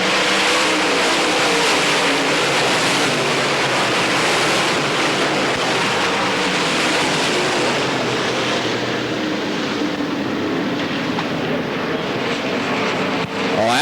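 Dirt track race cars at Pennsboro Speedway roar together in a loud, continuous engine wash as the field takes the green flag, the broadband drone steady throughout with no voices over it.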